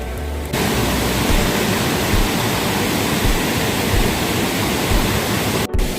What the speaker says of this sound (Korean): 물소리가 대단해요.